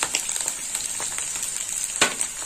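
Spice paste frying in a pan with chili powder added, a steady close hiss and crackle of sizzling oil with occasional stirring scrapes and small pops, without talk.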